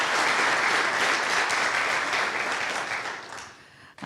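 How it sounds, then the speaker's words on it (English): A conference audience at a DevOps event gives a big round of applause, loud and sustained dense clapping lasting several seconds before tapering off at the end. "Could we give our speakers a big round of applause?"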